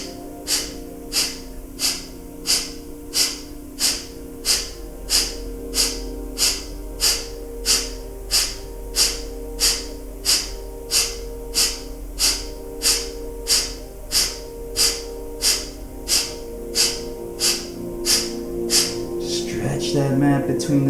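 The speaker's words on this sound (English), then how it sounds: "we can either take long, slow, deep breathing or that Kapalabhati breath" Kapalabhati yoga breathing: a steady run of about twenty forceful, rhythmic exhalations through the nose, close and loud, evenly spaced roughly one per second, then ending in a longer, noisier breath.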